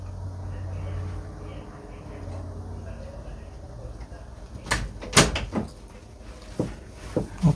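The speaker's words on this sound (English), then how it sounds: "I just had to go open the door for my dog." A door being opened indoors to let a dog in or out: a handful of sharp knocks and latch clicks in the last few seconds, moderately loud and close, after a stretch of quiet room hum.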